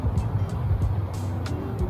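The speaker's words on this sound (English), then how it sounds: "I'm just waiting for the traffic to pass by" Steady road traffic rumbles past on a city street at night, a continuous low engine drone with a few brief swells as cars go by close to the listener.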